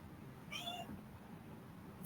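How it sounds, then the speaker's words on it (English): A small cat gives one short, clear meow partway through, over a low, steady background hum. "Such a little tiny cat."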